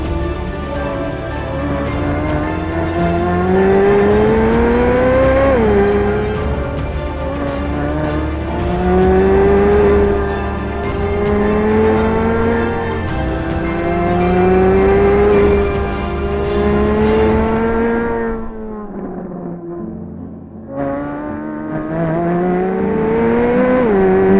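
A Chevrolet Corvette C8 Z06 supercar screams around the Willow Springs track, its loud engine climbing through repeated rising gear pulls with sharp shifts and a brief lift near the end, recorded close and without talk.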